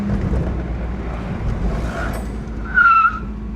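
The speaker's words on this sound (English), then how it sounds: "let's try the brakes again" An old Ford car, not started for 40 years, brakes hard, its road rumble ending in a short tonal squeal near the end, fairly loud and close, with no talk.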